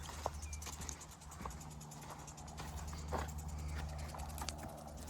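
Horses walk on grass with soft, irregular hoof clops scattered across the scene, set against a steady low background rumble and an occasional faint nearby thump.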